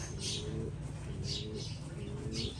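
Stray pigeons coo softly in a backyard loft, a few low repeated calls over faint ambient noise and occasional rustles.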